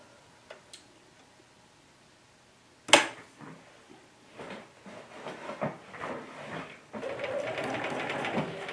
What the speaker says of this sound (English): I have my machine in the needle down position, so every time I stop, my needle stops in the fabric